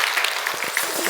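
Congregation clapping during a Friday evening church service in Korea, a brief moderate patter of hands with a little low murmur underneath.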